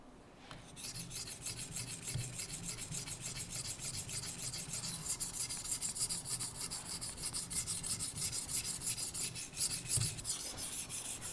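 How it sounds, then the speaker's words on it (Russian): A hand plane blade is ground against a stone on a TSPROF knife sharpener, producing steady, rhythmic rasping strokes back and forth, close and clear with no talking. "Заточка ножа Рубанка происходит до того момента, пока у нас не появится заусенец с обратной стороны."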